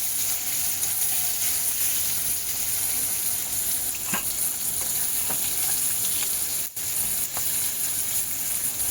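Onions frying in hot oil until reddish, a continuous loud close sizzle and crackle with a few sharp stirring clicks, no talking.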